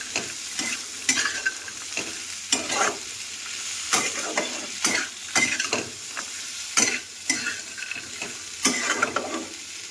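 A brinjal curry mixture being stirred and mixed in a frying pan: about a dozen rhythmic spatula scrapes over a continuous close sizzle, with no talking.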